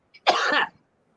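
A single harsh, close cough from a woman who choked on her own spit, one short rough burst after a tiny catch, then silence.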